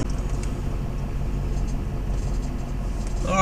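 A motorhome cruises along a road toward Houston, Texas, producing a steady, loud low rumble of engine and road noise with no talking.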